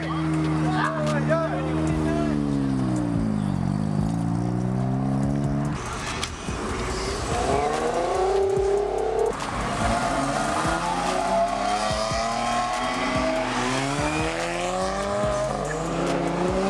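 Ford Mustang revving and accelerating hard at a car meet, loud rising engine harmonics with tire squeal, sweeping up and down repeatedly with crowd noise around it.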